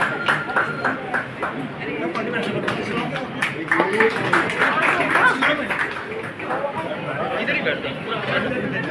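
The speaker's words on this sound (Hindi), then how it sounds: "जोरदार तालियां बजाओ इन बच्चों के लिए, जोरदार तालियां" Loud applause for children at a Sen Ji Maharaj birth anniversary festival in Shakurpur, crowd clapping mixed with chatter and babble, a dog barking at times, sustained across the whole stretch.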